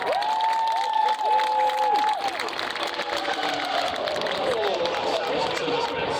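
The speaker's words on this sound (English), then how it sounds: "Let's get a round of applause for that." A live crowd at the Silverstone main stage breaks into applause and cheering, a dense continuous roar of clapping with whistling tones and voices mixed in throughout.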